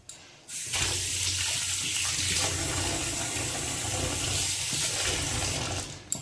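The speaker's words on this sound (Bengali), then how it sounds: "পালং শাকটা ধুয়ে নিই ভালো করে এটা একটু ভেজানো থাকুক" Tap water gushes steadily into a sink as spinach is washed, a loud, close, continuous splashing rush that starts abruptly after a brief quiet moment and runs unbroken to the end.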